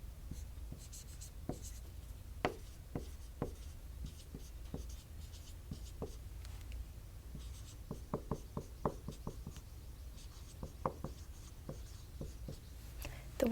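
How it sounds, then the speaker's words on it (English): Handwriting in a notebook during a soft-spoken math lesson: quiet scratching and tapping strokes of a pen or pencil arrive in irregular bursts, close and faint, with no talking. "I'm going to write it as you do"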